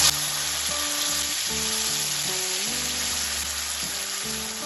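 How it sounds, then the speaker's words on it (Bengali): Spice paste sizzles and fries steadily in hot oil in a wok, a dense continuous crackle close up, with a low tonal hum and steady background underneath and no talking. "এবার আমি এর মধ্যে দিয়ে দেবো যে মশলার পেস্ট বানিয়েছিলাম সেই মশলাটা"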